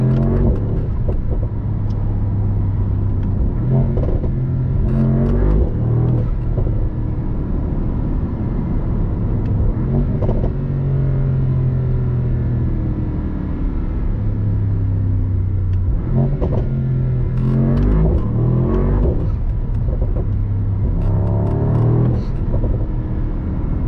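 A Mercedes-AMG SL63 engine, 585 horsepower, roars steadily while driving on the Autobahn, its pitch rising and falling as it revs and shifts, loud and close throughout with no talking.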